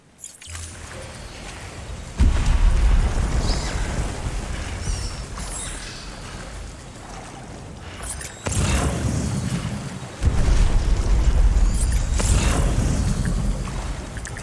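Loud, booming blasts from the video game Death Stranding burst in at intervals, with heavy low-end rumble swelling, easing off and surging again over a sustained roar, and no voices over them.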